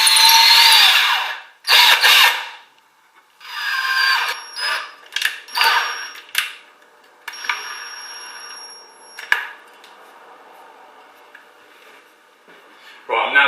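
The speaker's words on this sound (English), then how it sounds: "you will need is a number 6 drill bit to get the correct size hole in your masonry wall" Power drill with a number 6 bit boring a hole into a masonry wall, heard as loud, close bursts of high-pitched grinding with pauses between them, then quieter tool handling and a brief thin whine.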